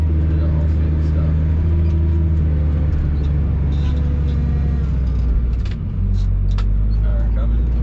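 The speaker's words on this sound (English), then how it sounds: "Car coming." A car approaching along a main road while a Massey Ferguson 8480 tractor plows snow nearby, a steady low engine rumble dominating throughout with a slight dip near the end, voices talking over it.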